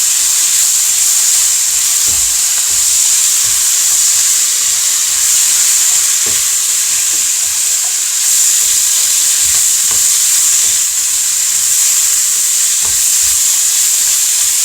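Pork bulgogi stir-frying in a pan with oyster sauce, a loud, close, continuous sizzle and hiss with occasional scraping stirs and clinks of a utensil against the pan.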